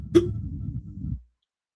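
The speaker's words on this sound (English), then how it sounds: "Hiccups." A single sharp hiccup bursts out, followed by about a second of low, muffled vocal sound before silence, close to the microphone.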